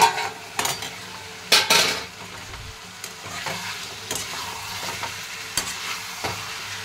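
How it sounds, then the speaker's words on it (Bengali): Meat frying lightly in a pan, with a continuous sizzle broken by sharp scrapes and clinks of a utensil stirring against the metal at irregular intervals. "মাংসটাকে হালকা হালকা করে ভেজে নেব।"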